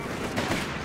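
Rapid gunfire in the World War II strategy game Company of Heroes 3, a dense, continuous crackle of shots and battle noise in a short, loud burst.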